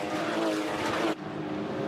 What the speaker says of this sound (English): That distinctive Boxer 6-cylinder engine that is uniquely Porsche